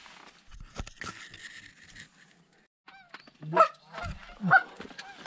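Geese honk as they fly in during an early-season goose hunt in North Dakota, a few loud nasal honks near the end after quieter rustling and scattered calls.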